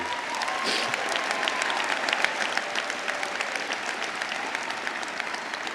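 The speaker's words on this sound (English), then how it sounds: "Please give them one more round of applause." Sustained round of applause from a graduation ceremony audience honoring the committee and volunteers, steady dense clapping filling the hall from start to finish with no talk over it.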